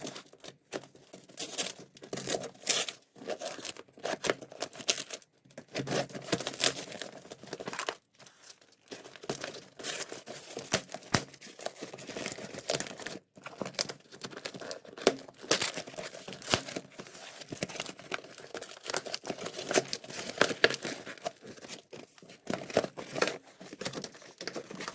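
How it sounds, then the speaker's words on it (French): Paper and plastic packaging being torn open and unwrapped from a parcel holding a Schleich carriage, with close, continuous crinkling and sharp ripping bursts that run for the whole stretch and have no talk over them. "Aujourd'hui on se trouve dans une nouvelle vidéo qui va être l'ouverture de ce colis là."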